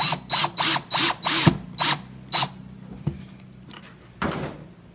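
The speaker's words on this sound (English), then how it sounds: "now we are attaching the latches" A power drill whirs in six short, rhythmic bursts while latches are fastened to a DJ flight case, followed by a few clicks and knocks, then one last short burst of drilling.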